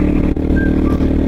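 Motorcycle riding through Passu Valley in Hunza, its engine droning steadily and loudly up close with a brief dip in the middle, wind and road rumble mixed in.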